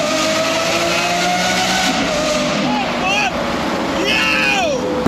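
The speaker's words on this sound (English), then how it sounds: "the V10, bro, the V10, the sound is amazing, bro. The sound is actually amazing" A Lamborghini Huracan V10 roars continuously on a road trip in Dubai, the engine loud and close with rising pitch sweeps as it revs and shifts, tire noise mixed in and someone talking over it.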